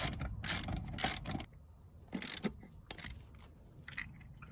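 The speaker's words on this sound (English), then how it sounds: "Torque wrench." A torque wrench ratchets through quick metallic clicking bursts while seat bolts are tightened to 27 foot-pounds on a 2013–2021 Subaru, close up, with short pauses between strokes.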